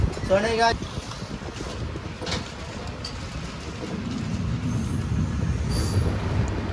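A Konkan Railway train rumbles at Diwan Khavati station with steady low wheel noise, a brief high squeal and some voices near the start.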